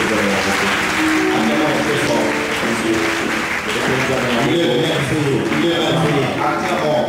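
Church congregation applauding together, a dense, steady clapping that fills the whole stretch with voices mixed in beneath.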